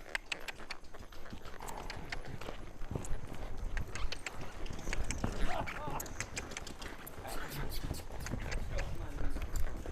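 Several horses moving about during a game of horse soccer, with a busy stream of clip-clopping hooves and occasional snorts under people talking throughout.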